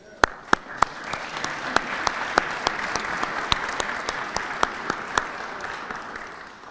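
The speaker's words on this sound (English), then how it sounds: "let's please welcome them with a warm round of applause" Warm applause from an audience welcoming distinguished guests in a city hall room, a dense, even patter with a few sharp nearby claps popping out above the crowd, sustained without talk.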